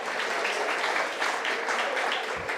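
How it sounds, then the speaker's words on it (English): A high school audience claps for scholarship winners at an awards night, a steady wash of many hands at moderate distance that holds evenly without a break. "So, round of applause."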